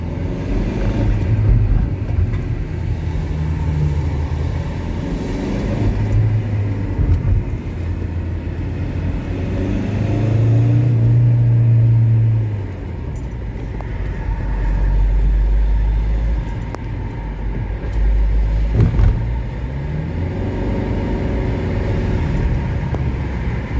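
A Citroen C4 1.6 HDi diesel engine with a worn-out clutch revs in steady swells, a loud low rumble that rises and falls over and over with no talking.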